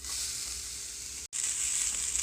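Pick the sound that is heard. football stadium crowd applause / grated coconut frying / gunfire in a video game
grated coconut frying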